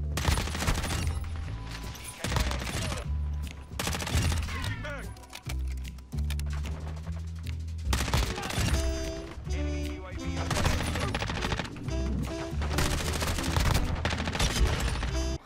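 Rapid bursts of hipfire gunfire from Modern Warfare 2, loud and near, with dense automatic volleys and short pauses through the stretch, a voice talking intermittently over the shooting.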